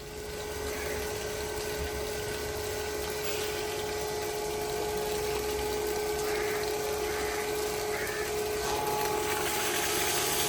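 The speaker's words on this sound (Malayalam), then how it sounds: "നമുക്കതൊരു ബോട്ടിൽ വെള്ളം അടിച്ച് എടുത്ത് നോക്കാം" Electric motor pump drawing foul-smelling well water into a bottle: a steady, loud mechanical hum with a constant whirring tone and rushing water, continuous throughout with no talk.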